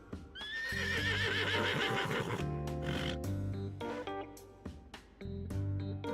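A horse in a video game whinnies loudly with a rising, shaky call, followed by deep snorts and heavy sounds over a thick, booming music-like backdrop.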